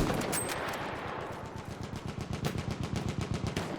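A sustained burst from a machine gun in the Battlefield 1 World War I shooter, rapid regular shots rattling on for several seconds under a dense battlefield din, close and loud.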